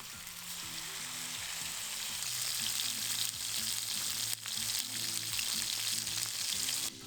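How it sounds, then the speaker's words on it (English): Spiced salmon fillets rubbed with cumin and smoked paprika fry in a hot pan, giving a steady, dense sizzle with crackling spits throughout, close and alone with no talk. "Give that a little rub and then into a nice hot pan."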